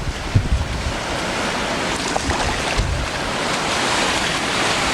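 Flood water laps at a back deck under a gusting south wind, a steady washing surge with a few soft knocks early on and wind buffeting the microphone throughout.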